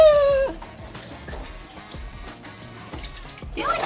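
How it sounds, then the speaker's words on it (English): Water gushes steadily from a tap into a sink on a boat, a continuous splashing rush with a brief squeak of the handle at the start, close by. "Just look at that water go"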